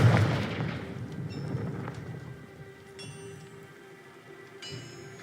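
A Confringo explosion spell in a Harry Potter video game lets out a deep, rumbling boom that fades into a low roll, with faint chimes and swishes over it.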